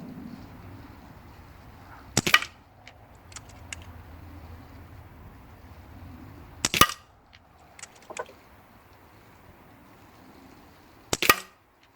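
A Kral NP02 air rifle is fired to empty its magazine, producing three sharp, loud shots spaced several seconds apart. Softer clicks and faint thuds fall between them against a quiet background.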